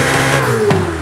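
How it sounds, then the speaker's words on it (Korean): A twin-turbo Ferrari V8 runs loud and steady right after starting, a dense mid-range engine tone with a brief rising blip partway through, no talk over it. "제가 시동부터 한번 걸어볼게요."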